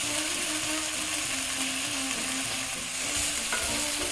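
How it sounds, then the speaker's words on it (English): Diced shallots and small-chopped garlic sautéing in a pan, a steady close crackle and sizzle with occasional stirring scrapes running throughout, no voices. "once you think it's kind of sauteed, go ahead and mix your mushrooms along with your shallots"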